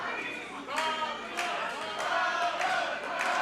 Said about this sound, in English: This crowd trying to get behind King Rob Love.